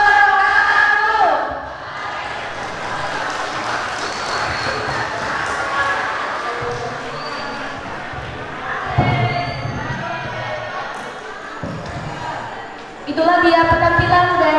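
Crowd noise with cheering and clapping at a school theatre performance at MAN 1 Sintang, Indonesia, loud and steady across the clip, rising in bursts near the end, with voices mixed in.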